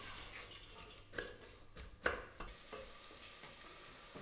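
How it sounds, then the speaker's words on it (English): Onions sautéing over high heat in a pan for a sweet potato and spinach curry, a soft continuous sizzle with a few scraping stirs and light clinks, quiet and close. "So these have kind of been sautéing for what, 6 to 8 minutes."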